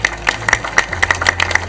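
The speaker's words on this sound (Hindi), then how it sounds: "जोरदार तालियां टीम कांकेर के लिए" Audience applause at a televised school quiz show final round, greeting team Kanker: a steady patter of many hands clapping at close range, with a low hum underneath.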